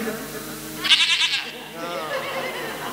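A crowd at a devotional kirtan gathering imitates a goat's bleat in a short, wavering chorus of voices, loud and close, set against steady background voices and hall noise.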